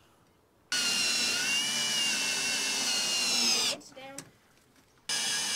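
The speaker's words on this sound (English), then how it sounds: "this one we are putting on with self-tapping screws" A power drill driving self-tapping screws into a truck rack side rail, a loud steady whine running for about three seconds, dropping off as it stops, then spinning up again; a brief word is spoken.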